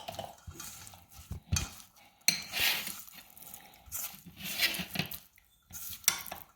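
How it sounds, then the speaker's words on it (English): A spoon mixes shrimp wonton filling in a bowl, producing close, repeated clinks and scrapes against the bowl, with wet squishing in irregular bursts and brief pauses. "All right, so you just mix everything all up."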